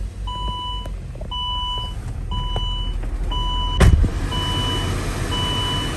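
A 2008 Saab 9-5 starts up at a classic car dealership in Palm Beach: a steady series of electronic chime beeps over a low idle rumble, then a brief loud burst as the engine catches near the four-second mark.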